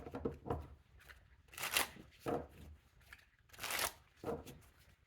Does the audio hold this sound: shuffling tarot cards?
yes